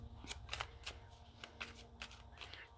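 Oracle cards being shuffled and handled, a quick run of soft riffling flicks and slaps, close and quiet, with no talk.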